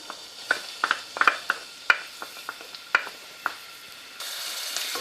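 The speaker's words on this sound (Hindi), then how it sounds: "ये मैंने इसमें तेल डाला है और अब तेल गर्म हो गया। मैं इसमें प्याज डालती हूँ।" Onions fry in hot oil in a pan for white chicken karahi, a hissing sizzle punctuated by sharp clinks and scrapes of a utensil against the pan, without speech.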